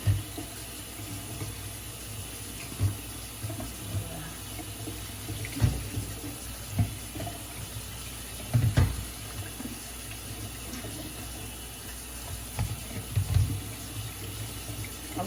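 Tap water runs into a kitchen sink while a roast is washed under it in a strainer, a steady soft stream broken by several brief splashes and knocks.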